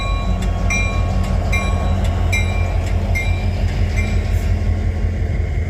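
A BNSF freight train rolls past in Abbeville, a loud steady rumble of wagons with rhythmic wheel clicks and faint squeals, close by and continuous throughout.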